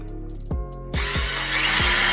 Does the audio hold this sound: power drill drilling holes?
yes